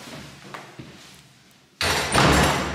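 A door in a home closes as people head out, a sudden loud thud and latch after a few soft clicks and light handling noises.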